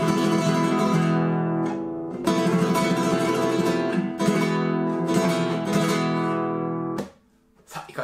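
A flamenco guitar played at normal, unmuted volume in a home during the morning, with bright full strummed chords and rasgueado flourishes ringing loudly and close, ending on a sharp stop with no talking.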